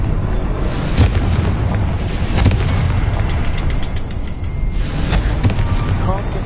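Confringo blasting spell in Hogwarts Legacy, three loud explosive bursts roughly two seconds apart, each a sharp crack with a rumbling tail over continuous battle noise and a voice.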